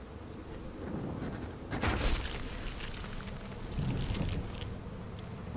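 Bees buzz in the video game Massive Chalice, a steady broadband drone with a couple of louder swells, all fairly close and without speech.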